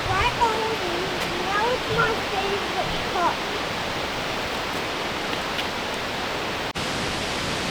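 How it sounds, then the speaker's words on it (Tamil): At the base of Whangarei Falls in New Zealand, the waterfall roars as a loud, unbroken hiss of falling water, with voices faintly audible beneath it near the start. "நாங்களும் பங்கரே நீர்வீழ்ச்சியின் அடிவாரத்துக்கு வந்துட்டோம்"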